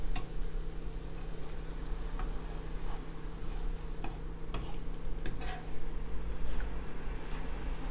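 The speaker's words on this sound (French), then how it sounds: "on va mélanger délicatement comme des œufs brouillés." Beaten eggs poured into a pan over low heat for Egyptian-style chakchouka are stirred gently like scrambled eggs, a steady soft sizzle with faint scraping and clinks throughout.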